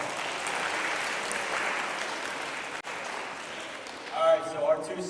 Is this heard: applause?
yes